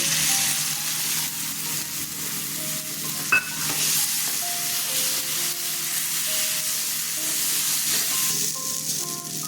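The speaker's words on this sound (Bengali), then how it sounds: "এই তেলে চালটা নুন হলুদ মেখে ভেজে নিচ্ছি" Rice coated with salt and turmeric frying in hot oil while being stirred, a loud continuous sizzle with scraping strokes close by, one sharp clink near the middle.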